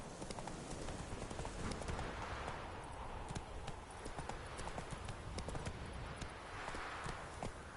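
Roach, a horse in the game Witcher 3, runs with rapid, steady clip-clop hoofbeats on the ground, close and continuous, with a faint ambient wash behind them.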